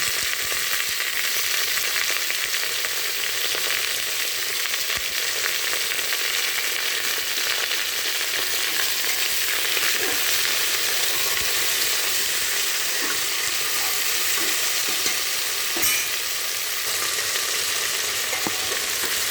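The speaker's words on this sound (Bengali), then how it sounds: "এই সবজিটাকে আমি এর ভিতরে ভাজা ভাজা করে নেব।" Steady, loud sizzling and crackling of vegetables with green chillies frying in a hot pan, continuous throughout with no talking.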